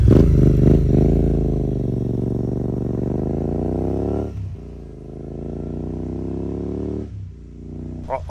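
A modified Royal Enfield 650 motorcycle with an aftermarket loud exhaust idles and revs up close, a deep throaty rumble that rises and holds, then dips twice as the throttle eases, alone without talk.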